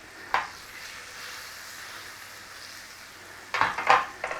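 Butter hits a hot pan with a soft, faint sizzle, followed by a brief sharp clatter and a louder burst of frying near the end.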